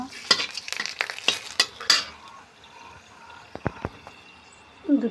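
Whole cloves, cinnamon, cardamom and bay leaves drop into hot oil, giving a close sizzle broken by sharp stirring clinks and pan knocks that thin out, then return briefly at the end.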